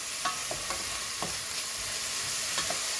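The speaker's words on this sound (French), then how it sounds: "Moi, je les mets tout le temps en même temps que les oignons pour les faire sauter aussi" Carrots and onions sautéing together in a pan for berkoukes, a steady close sizzle with a few soft stirring scrapes, moderate and continuous, no talk.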